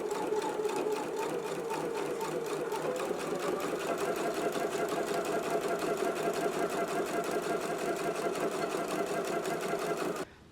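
A sewing machine stitches along a fly front zipper, a steady, rapid mechanical whirring at close range that runs unbroken for about ten seconds before stopping abruptly.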